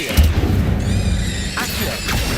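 Incendio fire spell cast in a Hogwarts video game, a loud booming whoosh with crackling bursts that holds steady for about two seconds, no talk over it.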